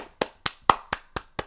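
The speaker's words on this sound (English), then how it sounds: "let's get a round of applause right there" A short burst of hand clapping during a Minecraft CubeCraft livestream, six sharp claps at an even, fairly quick rhythm, close and clear with no talk over it.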